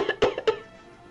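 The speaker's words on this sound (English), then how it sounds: "She's coughing hard" A video game character coughs hard, about three sharp, close rasping bursts in quick succession that then trail off into quiet.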